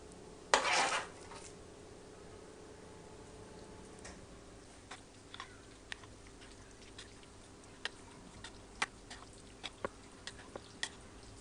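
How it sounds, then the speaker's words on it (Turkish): A spoon clinks against a bowl as zucchini is stirred into yogurt, opening with a brief loud scrape, then sparse, light ticks and taps spread out at irregular intervals. "Kabakları ekliyorum yoğurdun içine karıştıracağım."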